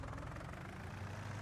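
A tractor engine in Farming Simulator 19 idles with a steady, low, rumbling drone that holds at an even level, close up, with no talking.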